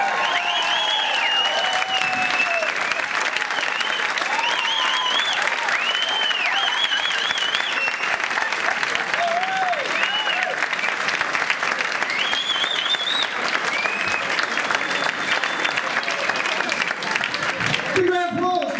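A comedy club audience in Sydney applauds steadily after a stand-up set, a dense, continuous wash of clapping with scattered cheers and voices, loud and close throughout.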